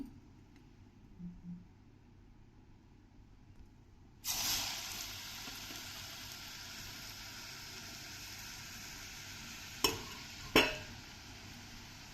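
Onion chakali drop into hot oil and burst into a loud, steady sizzle after a few seconds of near silence. Two sharper crackling spurts rise near the end.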